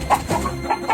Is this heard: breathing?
no